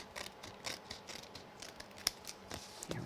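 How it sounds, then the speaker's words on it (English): Scissors snipping through card during papercraft, a series of small, crisp cutting clicks at an uneven pace, close but quiet with no talking. "And you notice I'm keeping my scissors at an angle."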